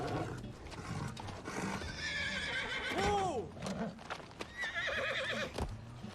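A horse whinnies with a rising, wavering neigh mid-scene in a Rings of Power game setting, with snorts, clopping hooves and faint background ambience around it.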